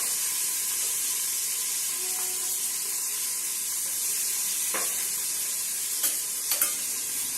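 Chopped onions sizzle steadily in a hot pan for chicken biryani, a continuous close frying hiss with a few brief stirring scrapes near the end.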